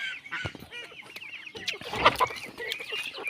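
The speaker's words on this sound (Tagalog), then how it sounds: "pasok muna tayo sa ating munting manukan" Native chickens in a small coop cluck and squawk up close in a busy, overlapping chorus, with a few louder honking calls mixed in.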